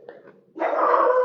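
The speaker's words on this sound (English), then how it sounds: "Quit barking" A nearby dog gives a soft whine, then a sudden, sharp, drawn-out bark that rings loud and close to the end.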